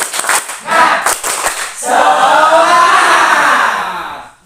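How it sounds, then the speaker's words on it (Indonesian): A group claps rhythmically in a few quick bursts, then breaks into a sustained cheer of many voices that fades out. "Tepuk semangat, tepuk semangat. Semangat ya. Kita tepuk dulu."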